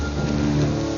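Steady heavy rain falls on surfaces in a continuous loud wash, with a low rumble of thunder beneath, and no voices.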